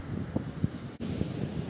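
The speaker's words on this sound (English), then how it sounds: "Just see where the waves are pulling back now." Sea waves pull back down a beach on the Norfolk coast near Walcott, Bacton and Eccles on Sea during a big spring tide, a soft rushing wash under steady wind noise with a couple of faint low thumps.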